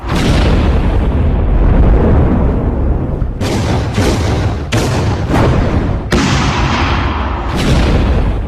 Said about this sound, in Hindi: ये 5 धमाकों की तस्वीर मैं आपको दिखा रहा हूं।